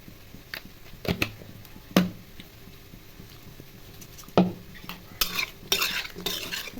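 Fish curry ingredients (fish pieces with chili powder, turmeric and salt) being stirred and mixed by hand, giving scattered soft clinks and scrapes at irregular intervals, with a denser patch of mixing sounds near the end.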